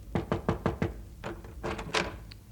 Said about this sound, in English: there came a knock at my door